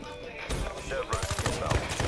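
Rapid machine gun fire in Black Ops 3, heard as close, dense bursts of shots that grow heavier in the second half of a short exchange.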